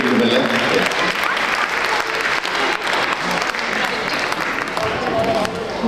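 Loud, sustained applause from an audience at a Telugu Association of North Texas Sankranti celebration, dense clapping filling the hall steadily throughout with a faint murmur of voices underneath.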